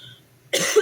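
A single sharp, close cough bursts out after a moment of near silence, loud and brief, with a rough throaty edge.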